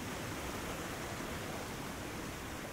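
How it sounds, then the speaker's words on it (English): Water rushes in a stream as an even, broadband hiss that stays steady and fairly faint, with no voices or other sounds. "There's something spiritual about the sound and the feeling of the water moving."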